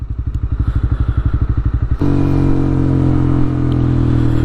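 Motorcycle engine idling with a steady pulsing thump for two seconds, then revving up into a loud continuous drone as the bike pulls away, close and alone with no talk.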